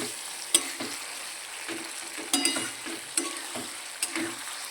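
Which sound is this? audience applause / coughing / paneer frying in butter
paneer frying in butter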